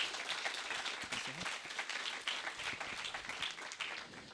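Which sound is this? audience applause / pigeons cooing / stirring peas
audience applause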